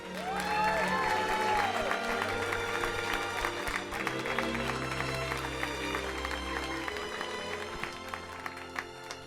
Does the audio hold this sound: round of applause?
yes